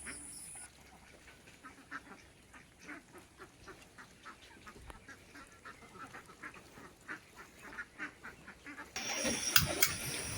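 Ducks on a farm quack in a steady run of short repeated calls, moderately close, growing louder and busier toward the end.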